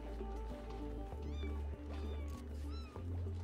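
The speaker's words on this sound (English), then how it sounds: "I hear a little, oh look, a little pipsqueak." Small pipsqueak critter in the colony sim Oxygen Not Included giving soft, high, meow-like squeaks twice over a steady hum of game music and machinery.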